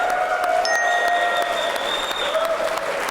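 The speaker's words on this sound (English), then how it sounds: "Another round of applause for them." A studio audience at a televised quiz show for senior secondary students applauds steadily, dense clapping and cheering at even loudness with a few whistles throughout.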